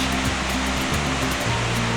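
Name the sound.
126-foot waterfall falling from a sandstone cliff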